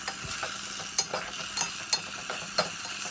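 Fresh brinjal curry frying and being stirred in a pan, a steady hiss of sizzling broken by several sharp scrapes of a spoon against the pan, close and fairly quiet, with no talking.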